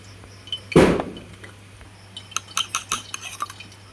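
A metal spoon stirring turmeric and meat masala spice powder in a pan for a chicken curry: one loud scrape, then a quick run of light clinks and taps against the pan.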